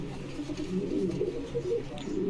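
Pigeons at a pigeon farm in Bogura give low soft cooing, repeated murmuring coos close by with faint background noise.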